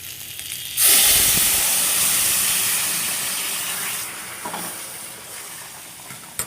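Water splashes onto a hot five-spice tempering for a bean, pea and carrot curry, erupting in a sudden loud hiss that slowly fades over several seconds, with a couple of small clinks near the end.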